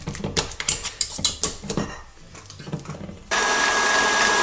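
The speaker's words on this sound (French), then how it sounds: "on le met dans un batteur comme ça, et on va faire monter cette partie-là au batteur" An electric mixer whirs steadily as it beats softened butter for a strawberry fraisier cake, starting abruptly after a run of sharp clicks and knocks and continuing loud and close.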